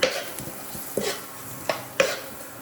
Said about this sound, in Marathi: थोडा आता फ्राय करून घेऊ आपण